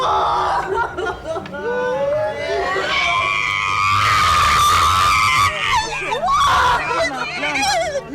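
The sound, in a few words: a mother screaming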